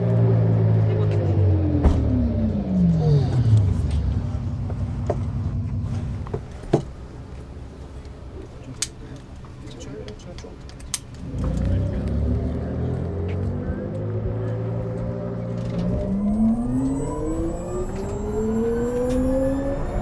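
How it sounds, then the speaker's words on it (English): Hyundai RN22e electric car driving on the road, a loud rising and falling synthetic drive tone sweeping up and down with the speed changes, with rumble and occasional clicks. "So I've just hit the road in the RN22e."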